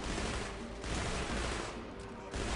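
Heavy machine gun fire in the shooter game Deadfall Adventures, a dense continuous burst of rapid shots that runs loud and close for the whole stretch with only brief dips.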